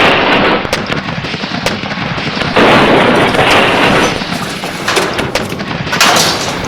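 Cannon fire from a Civil War ironclad fleet as a ram is fired upon: loud, dense rumbling blasts and crackling bursts roll on continuously, with a heavier surge midway.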